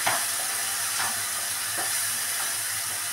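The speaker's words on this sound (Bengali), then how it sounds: "এবার এটাকে আমি ভালো করে কষিয়ে নেব" Onion paste sautés in a pan with a continuous close hiss and sizzle, broken by a few soft scrapes of stirring at roughly one-second intervals.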